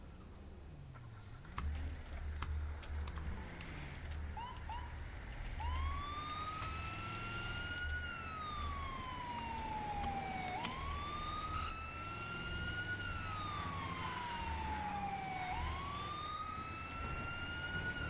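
An ambulance siren in a GTA roleplay game, wailing in long rising and falling sweeps over steady traffic rumble, loud and continuous with no talk.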